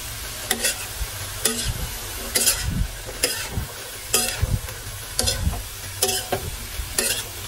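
Pancit sizzling in a pan while being stir-fried with vegetables, steady frying hiss broken by rhythmic scraping strokes of a utensil roughly every half second, close and fairly loud, no talking.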